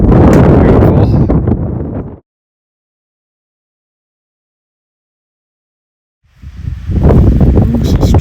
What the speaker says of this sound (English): Strong winds blowing the snow around up here.